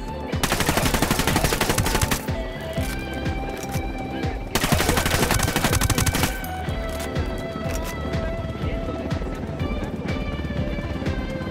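Intense gunfire in the open-world shooter Ghost Recon Wildlands: loud sustained automatic bursts and scattered single shots, with dense volleys pausing and then resuming.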